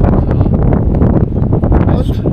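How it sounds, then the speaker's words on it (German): Gusty wind buffets the microphone on the Baltic coast at Travemünde, near where the Trave river meets the sea, with a steady, loud, low rumble throughout and voices talking underneath. "Und Wolf, schön windig, ne?"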